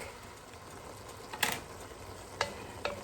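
Ground beef and Italian sausage browning in a pan, a soft steady sizzle under a few sharp clicks and scrapes of a utensil against the pan, fairly quiet, no voices.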